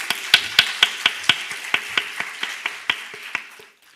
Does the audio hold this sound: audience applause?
yes